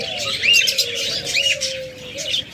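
Caged budgerigars, cockatiels, lovebirds and diamond doves give a steady low coo beneath busy, bright chirps and tweets, close and fairly loud, with no voices.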